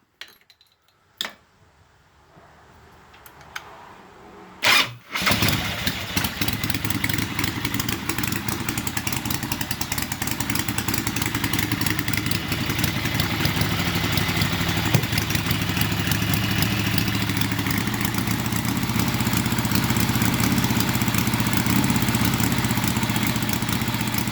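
A few clicks and a brief cranking attempt, then an old Harley-Davidson Ironhead motorcycle engine catches and keeps running with a loud, rough, steady idle.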